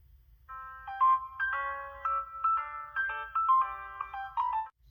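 Tinny electronic melody playing from the speaker of a Hello Kitty mobile phone, a bright synthesized tune of stepped notes that runs for several seconds and then cuts off abruptly.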